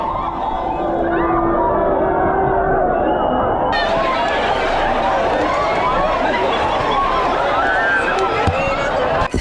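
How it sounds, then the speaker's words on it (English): A La Tomatina festival crowd fills the air with loud, continuous chanting, clapping and singing. The dense babble of many voices carries throughout, with brief sharper bursts near the end. "The chanting, clapping, and singing continued even while people were throwing tomatoes."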